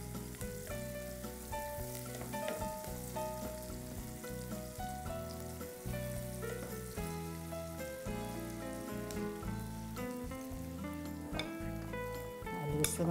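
Fish frying in a pan makes a soft, continuous sizzle, fairly faint and partly masked by background music with a steady beat.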